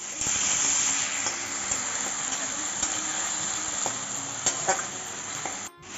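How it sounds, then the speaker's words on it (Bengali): Onion paste frying in oil in a pan, sautéed for a Bengali jackfruit kofta curry: a loud, steady close sizzle throughout, with occasional light spoon clicks as it is stirred. "এখন পেঁয়াজ বাটাটা দিয়ে দিচ্ছি দু চামচ দিয়ে একটু ভালো করে কষিয়ে নিচ্ছি"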